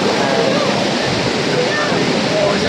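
Steady, loud rush of water pouring down Saveri Waterfall in Goa, a continuous broadband roar that fills the whole stretch with no break.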